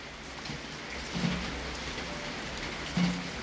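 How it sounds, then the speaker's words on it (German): Steady rain from a passing thunderstorm over Siegburg, a dense even hiss of falling drops with a couple of faint low rumbles, close and moderately loud with no voices. "Heute Mittag hat es bei uns hier ziemlich geschüttet."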